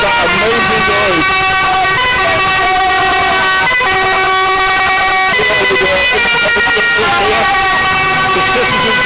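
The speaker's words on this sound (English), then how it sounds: "That's on the front of that tractor that you can hear." Tractors at a farmers' protest, with loud horns honking and engines droning continuously nearby while people talk over the din.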